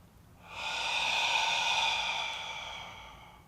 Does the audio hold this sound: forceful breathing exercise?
yes